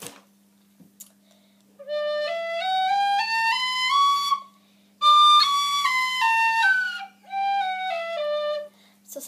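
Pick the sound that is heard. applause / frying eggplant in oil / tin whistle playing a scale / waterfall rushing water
tin whistle playing a scale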